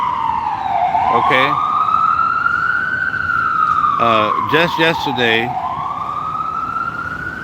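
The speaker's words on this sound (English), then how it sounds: "once this ambulance goes by" Ambulance siren passing on a street, a loud continuous wailing tone sweeping slowly up and down, with someone talking over it in the foreground.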